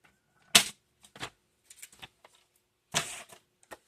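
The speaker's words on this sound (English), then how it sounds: "I'm going to trim this down because obviously I don't have the right measurement here" Heavyweight white cardstock is trimmed about a quarter inch on a paper cutter, giving two sharp slicing strokes with a few light clicks and taps between them, close and clear with no talking.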